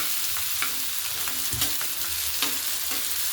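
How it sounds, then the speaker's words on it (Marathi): Onion and chili frying in hot oil on a hot tava, a steady crackling sizzle with occasional louder pops and stirring scrapes, close and continuous, no talking. "आपण मिरची आणि कांदा एकत्र टाकून घेतला आहे, आणि तो तळून घेऊ तेलामध्ये"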